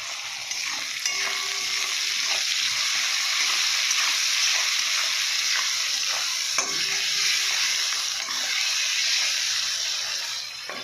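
Ginger and garlic masala fries in a hot pan ahead of the chicken, giving off a steady, loud broadband sizzle with faint stirring scrapes throughout.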